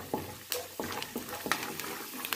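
Peanuts dropped into hot tempering oil for chitranna, a crackling sizzle with several quick stirring scrapes and bursts of frying close up.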